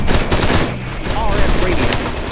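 Heavy automatic gunfire in the video game Dark, loud rapid bursts filling the scene, with shouting voices mixed in.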